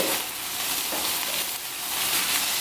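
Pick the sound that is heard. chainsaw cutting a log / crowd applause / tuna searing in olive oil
tuna searing in olive oil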